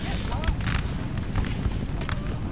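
Cannon fire from a Napoleonic-era battle in Napoleon: Total War, with repeated booms and rolling gunfire running steadily under a dense battlefield din while commentary continues over it.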